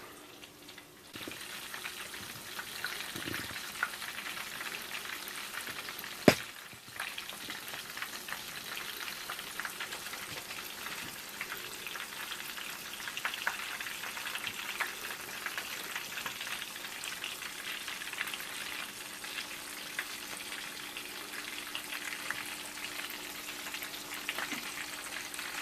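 Panko-coated shrimp fry in hot oil with a steady, dense sizzle that carries on throughout, broken by one sharp knock partway through.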